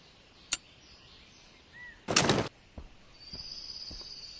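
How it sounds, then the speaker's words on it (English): A grenade thrown at zombies in the game Zombie Piercer gives a sharp click, then a short burst of noisy blast, followed by a few faint thuds and a thin high tone in an otherwise quiet game scene. "I'm gonna go ahead and put this grenade in"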